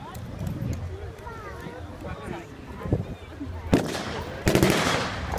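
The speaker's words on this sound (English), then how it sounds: "They're returning fire from cover." Gunfire at an armed forces demonstration battle: a few scattered distant shots, then two loud close bursts near the end, heard under an announcer's continuous commentary outdoors.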